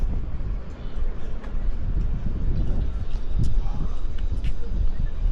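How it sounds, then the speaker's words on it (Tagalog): Steady wind rumbles and buffets the microphone throughout, a strong low roar with faint background sounds. "Ay, yun, lumakas ang hangin."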